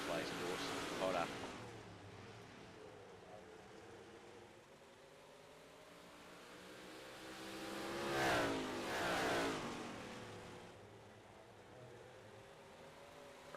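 Race cars pulling away on the green flag in the iRacing sim rise into an engine roar, swelling to a loud pass near the end, with a broadcast commentator's voice running under the noise.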